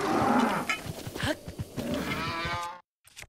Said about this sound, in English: Get back here, cow.